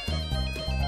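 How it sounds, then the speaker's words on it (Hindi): A mobile phone ringtone plays steadily at moderate loudness in an indoor home setting, a sustained electronic melody with repeating tonal phrases and no speech over it. "बेटा फोन तो उठाओ ना"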